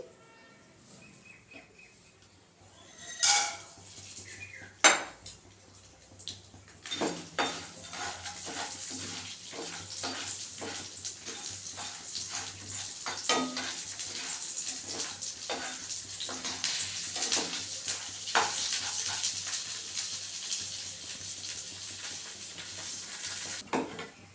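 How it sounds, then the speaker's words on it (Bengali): Badi, peanuts and dried red chillies fry together in hot oil in a pan, giving a steady, close sizzle with scraping stirs and occasional louder pops throughout. "আমার বড়িটা ভাজা হয়ে গেছে আর শুকনো লঙ্কাটা আর বাদামটা একসঙ্গে ভেজে নিলাম"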